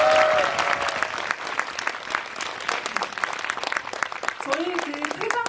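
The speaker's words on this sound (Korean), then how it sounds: "박수 부탁드릴게요." An audience at a film talk event bursts into steady, dense applause, holding strong for several seconds before easing slightly, with a few voices audible near the end.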